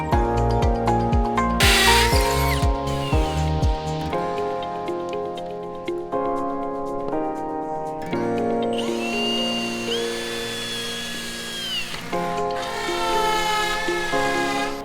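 Regular drill, not a hammer drill, boring into concrete to anchor framed walls, a whining, grinding buzz in repeated short bursts with pauses between, close up.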